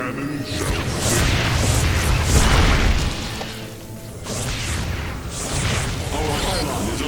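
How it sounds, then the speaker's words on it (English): Photon cannon fire in StarCraft II: a dense run of booming bursts and sharp pops over layered battle noise, loud and continuous, easing briefly near the middle before resuming. "Our cannon shall sing."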